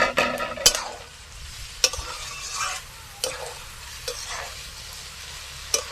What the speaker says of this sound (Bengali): এইবার ভালো করে একটু চাল ডালের সাথে ভেজে নেবো।